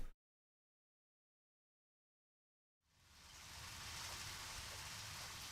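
Rain in the video game Deadly Premonition comes in as a steady, soft hiss after a stretch of silence, holding evenly to the end.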